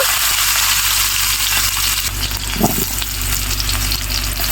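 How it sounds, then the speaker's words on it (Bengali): Potatoes fry in oil left over from frying fish, giving a loud, continuous crackling sizzle with a brief stir midway and no talking. "মাছ ভাজি করার তেলেই আমি একটু আলুও ভেজে নিব"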